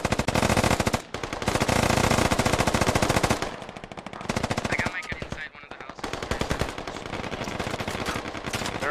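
Dense automatic gunfire in the tactical shooter game Squad fires in long, rapid bursts from a weapon inside a building, loud and close, with only short pauses between strings of shots.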